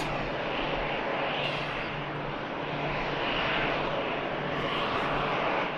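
An Airbus A380 takes off at Manchester Airport, a loud, sustained broad engine roar rumbling steadily throughout from a moderate distance, with no speech.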